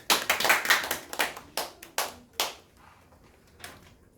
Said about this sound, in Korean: 자, 우리 카이 강사님 한번 박수 한번 주세요.